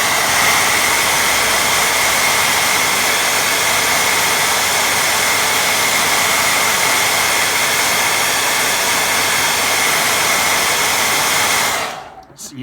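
A hair dryer blows steadily and loudly on a watercolour painting of wild campers, a continuous close whooshing roar that runs without a break for about twelve seconds before switching off abruptly.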